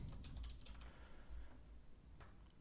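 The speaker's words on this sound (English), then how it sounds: "And if I type custom in" Keys being typed on a computer keyboard while searching for a custom brush in Manga Studio 5, a short run of soft clicks at the start and one more near the end, faint against a steady background hum.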